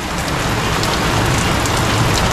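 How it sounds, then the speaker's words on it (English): Heavy rain pours steadily outside a front door, a dense, loud, even hiss of drops hitting surfaces with no breaks or voices. "When you come out front, it's just a nice, heavy, peaceful rain."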